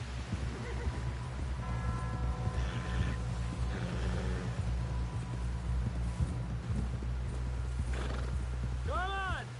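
Horse hooves clip-clop steadily in Red Dead Redemption 2, a close, continuous trot under a low droning backdrop, with a horse whinnying near the end.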